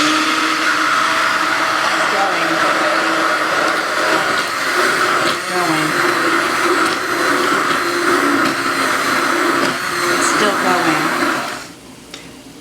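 A stick blender whirs steadily in a kitchen for about eleven seconds while banana bread is being made, a loud continuous motor drone that cuts off near the end and leaves quiet room tone.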